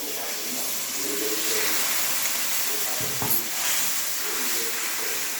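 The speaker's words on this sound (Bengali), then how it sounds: "একটু মিক্সি দেওয়া জল দিয়ে দিচ্ছি।" Ground spice paste water hits hot oil with frying spices for a fish curry, giving a broad, steady hiss and sizzle with a brief clatter midway and no talk.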